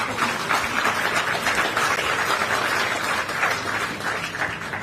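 An audience at a state award ceremony honoring UPSC and IIT-JEE qualifiers breaks into loud, sustained applause, a thick even roar of many hands clapping that fades slightly at the end.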